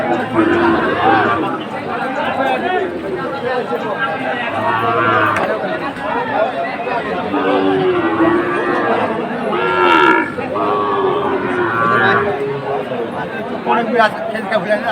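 Sahiwal bulls and calves at a busy cattle market in Noakhali, their moos rising now and then through a dense crowd chatter and nearby talk.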